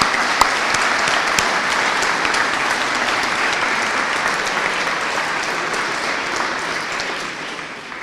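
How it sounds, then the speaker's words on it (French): Sustained applause from a conference audience for the interpreters, dense and steady at a moderate distance, holding level for about eight seconds before easing slightly at the end. "Je voudrais quand même qu'on les applaudisse, parce que vous avez fait un travail formidable."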